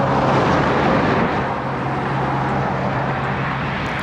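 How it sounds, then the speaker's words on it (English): Cars rush past on a busy road, a broad steady roar of traffic with a low hum that swells and fades slightly as vehicles go by, heard without talk. "we take a break from having those cars zoom by us"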